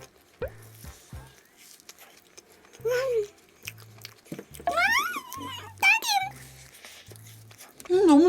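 Crisp, crunchy chewing of frozen food comes in short bursts close to the mic, with low rhythmic bites spaced through the clip; a voice murmurs and hums appreciatively between mouthfuls.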